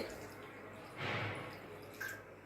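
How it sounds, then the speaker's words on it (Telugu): Half a glass of water is poured into a pan of tomatoes for a ridge gourd and gongura chutney, making a short, soft splash midway over a quiet kitchen background, followed by a small drip. "ఇప్పుడు దీంట్లో ఒక అర గ్లాస్ వాటర్ వేద్దామండి"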